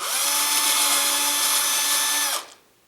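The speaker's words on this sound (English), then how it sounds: "So I'm going to drill me a little hole right here." A power drill whines steadily at high speed for a couple of seconds, then winds down and stops.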